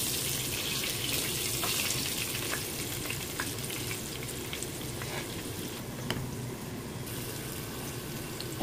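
Potato chunks frying in hot oil for a Bengali mutton curry sizzle and bubble steadily and loudly throughout, with faint scraping clinks as the pieces are lifted out one by one.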